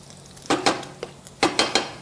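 Garlic, carrots, onions and celery go into a pan to fry. Several loud clatters and scrapes of a utensil against the pan come in quick bursts, with a soft sizzle between them and no talk.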